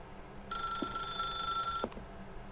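In The Stanley Parable Ultra Deluxe, a telephone bell rings in one continuous burst of just over a second, then cuts off sharply, with quiet ambience before and after.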